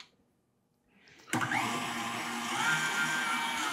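An electric mixer whisking meringue as sugar is added gradually switches on abruptly after a quiet moment, then runs as a steady, loud, high whirring drone.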